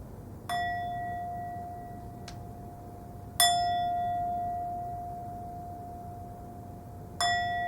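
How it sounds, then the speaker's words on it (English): A bell is struck three times, each clear ringing tone sustaining and slowly fading into quiet between strikes. "when the sound of the bell is completely gone for you"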